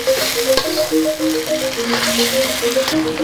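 Sambal ingredients fry in a pan with a steady, close, loud sizzle. A few light stirring clinks come through, and nobody speaks.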